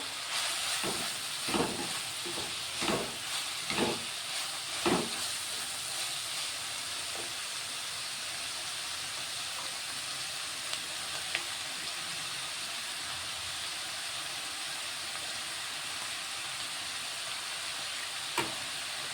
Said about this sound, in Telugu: ఇది కొంచెం నూనెలో ఫ్రై అవ్వాలి అయితే కొంచెం ఫ్రై అవుతుంది